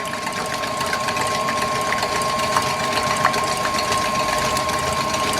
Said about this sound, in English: You want to beat this on a high setting, 6 to 8.